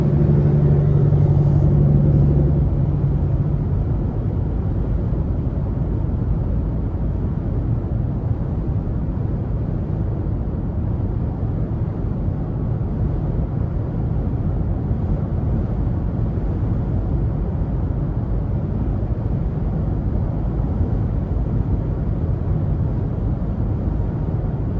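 A 2022 Nissan Frontier SV pickup cruising steadily on adaptive cruise control, with a constant low road and engine rumble filling the cabin throughout, alone and without talk.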